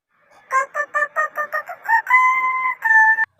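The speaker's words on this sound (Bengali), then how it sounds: "আরে, মুরগির ডাক শুনলাম মনে হলো" A cartoon rooster crows in a Bengali animated fable: a quick run of rhythmic clucking syllables building into two long, loud held crowing notes, clear and alone with no talk.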